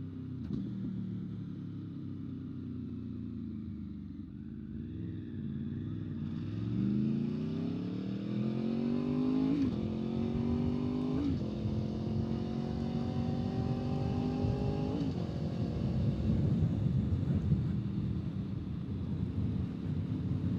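An Aprilia Tuono V4 motorcycle engine drones steadily while riding, its pitch climbing and dropping through several gear changes amid wind buffeting, loud and close with no talking.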